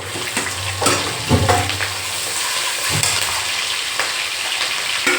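Green chillies dropped into hot oil in a wok already seasoned with carom seeds, asafoetida and garlic, sizzling and spitting steadily up close, with a few clanks and stirring knocks, no talk.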